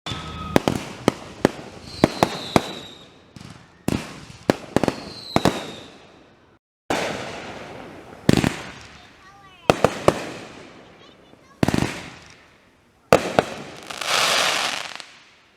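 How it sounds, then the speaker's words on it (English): Fireworks explode at a public display the night before the 4th of July, sharp bangs and crackling bursts popping irregularly every second or two, some with lingering rumble and sparkle, with people talking in between. "my family is going to see some fireworks"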